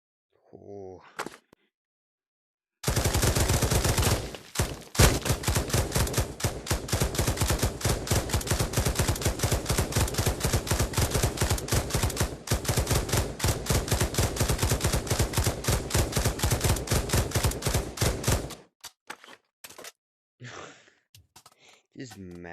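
Sustained rapid automatic gunfire from a magazine dump in the Pavlov VR shooting game's gun range, loud and close, a dense unbroken burst lasting about fifteen seconds, with brief breathy vocal sounds before and after.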